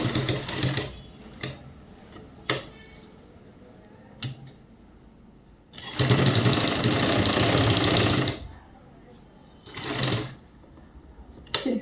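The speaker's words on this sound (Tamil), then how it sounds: "அந்த இடத்துலையும் ஒரு தையல் போட்டுடணும்" A sewing machine stitching a school uniform skirt runs in short bursts, with a longer steady run in the middle and brief clicks and pauses between stitches, close and clear.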